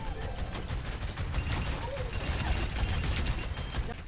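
Junker Queen's scrap gun firing in Overwatch 2, heard as a dense run of rapid blasts and gunfire that stays loud and steady throughout, with game effects layered in.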